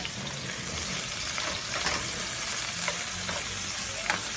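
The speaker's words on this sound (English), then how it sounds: "I got my onions and mushrooms are sauteing right now" Onions and mushrooms sautéing in a pan over medium-high heat, a steady close sizzle and crackle with occasional stirring scrapes, no talking.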